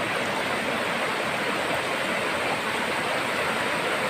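The Narmada river rushing past in full flow near a spot where water tumbles down, forest setting in Dindori; a steady, dense roar of moving water, close and unbroken, with no talking.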